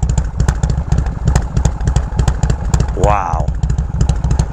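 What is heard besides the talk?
1979 Harley-Davidson FLH Shovelhead motorcycle engine idling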